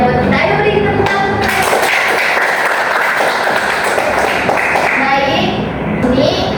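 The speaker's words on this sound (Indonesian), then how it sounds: "Ayo beri tepuk tangan." A classroom of students claps for a classmate's answer during a guidance lesson, loud dense clapping that thins toward the end, with children's voices mixed in.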